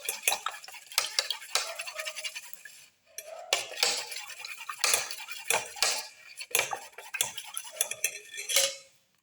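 A rapid, steady clatter of a utensil beating eggs in a bowl, with fenugreek leaves and black pepper for an omelette, continuing busily and close with one brief pause partway through.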